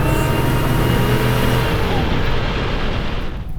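A Vigilante Jeep Grand Wagoneer with a 4-speed automatic drives with its engine roaring loud and close, the revs climbing and droning as it downshifts and surges, fading slightly at the end.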